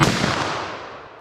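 A 10mm revolver fires a single loud shot at an outdoor target range, the sharp crack at the start trailing off into a long, slowly fading echo.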